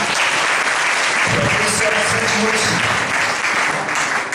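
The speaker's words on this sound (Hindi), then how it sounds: "सारी गवाहियों में एक बार जोरदार ताली बजाएं" A church congregation claps loudly together at a Sunday service, dense sustained applause throughout, with someone speaking over it.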